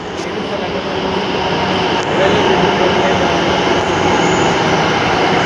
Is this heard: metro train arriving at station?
yes